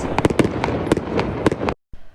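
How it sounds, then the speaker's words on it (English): Lunar New Year fireworks crack and pop in a rapid, irregular string of loud sharp bursts for nearly two seconds, then stop abruptly with a faint echo trailing off. "it's not gunshots, it's fireworks"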